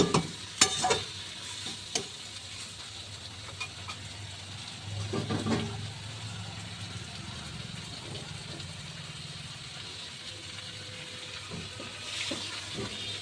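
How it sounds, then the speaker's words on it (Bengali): Chicken and onions for Bengali chicken kosha cook in a pan over low heat, a low continuous sizzle with clattering stirring at the start and a few later knocks, no voices heard. "আমি আস্তে আস্তে চিকেনটা ভালো করে ঢেকে অল্প আঁচে কষিয়ে আমি রান্না করব"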